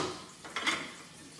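A spoon stirs seasoned rice in a pot, making a couple of brief scraping clinks against the metal followed by a soft hiss, close and alone.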